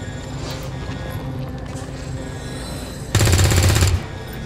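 Burst of automatic gunfire in the XCOM 2 video game, a loud, dense rattle lasting under a second that erupts after a stretch of game music and ambient noise.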